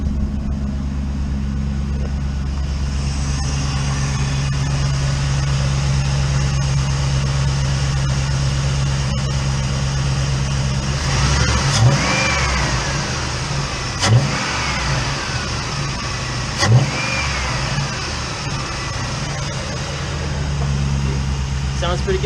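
A car fitted with an aftermarket Amazon ram air intake idles steadily, with a low, even engine drone and a few short revs rising and falling partway through, heard close up.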